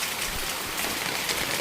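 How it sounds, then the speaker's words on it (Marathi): Steady rain falls outdoors with a continuous, even hiss of drops, moderately close, with no voices. "आता असा छान सुंदर असा पाऊस पडतोय आमच्याकडे"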